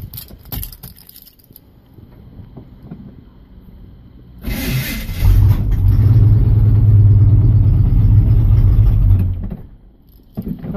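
A 1982 Chevy Custom Deluxe truck engine is cold started with no choke: keys jingle, a starter cranks, then the engine catches and runs loud and rough for several seconds before cutting out.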